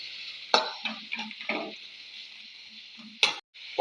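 Tomatoes being sautéed in a pan, close stirring scrapes and clinks with short bursts of sizzle between quieter pauses, no talking.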